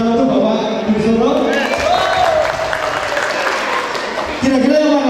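Steady applause from a seated crowd at a police promotion ceremony in Banyumas, continuous clapping running under someone speaking over a microphone.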